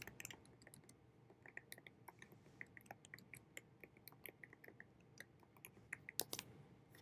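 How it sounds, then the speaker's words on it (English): Typing on a computer keyboard, a quick, irregular stream of light key clicks with occasional louder taps, fairly faint and close, with no voices. "Let me type that out."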